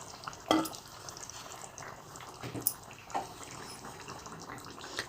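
Egg kulambu simmering on low heat in a pot, a faint bubbling and sizzling with a few soft clinks and stirring sounds, quiet and close.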